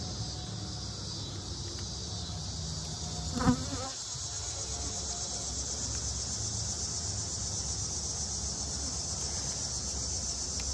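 Honey bees buzz steadily at a hive opened for a fall inspection, a dense, continuous drone close by that holds for the whole stretch, broken once by a brief knock or clunk from the handled frames.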